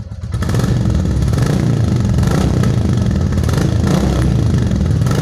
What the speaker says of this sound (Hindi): मैं इस बाइक को स्टार्ट कर लेता हूं और इसके एग्जॉस्ट के साउंड को आपको नोट करा देता हूं